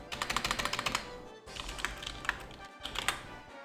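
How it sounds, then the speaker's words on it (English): Computer keyboard typing, with quick, close runs of key clicks in several bursts and short gaps between them, and no voices. "I apologize for keyboard noises"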